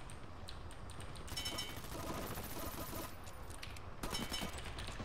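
Bursts of automatic gunfire in a first-person shooter video game, rapid rattling volleys that stop and restart, heard at moderate loudness over steady game background with no talk.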